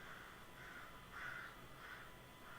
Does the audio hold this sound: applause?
no